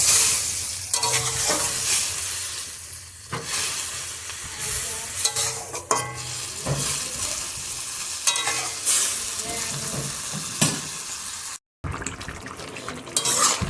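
A curry of potatoes and vegetable stems bubbles in a pan, with a steady sizzling boil broken by repeated scrapes and clinks of a utensil stirring against the pan.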